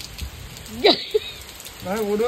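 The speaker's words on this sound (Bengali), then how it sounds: "মারাত্মক বৃষ্টি হচ্ছে" Steady rain patter fills the background, hissing and continuous, while a few short voice sounds and a sung phrase rise above it.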